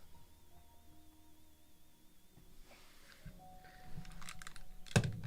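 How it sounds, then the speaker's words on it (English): A key is pried off a computer keyboard, with faint rustling and handling, then a sharp click as the keycap pops free near the end, quiet and close. "I've got another keyboard over here I'm just going to pop a key off of."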